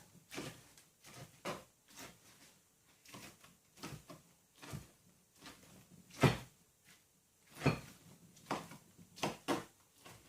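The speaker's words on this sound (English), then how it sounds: "I'm going to chop up these chilies a little bit before I put them in the blender" Repeated knife chops through chilies on a cutting board, close and uneven in rhythm, some strokes sharper and louder than others, with no talking.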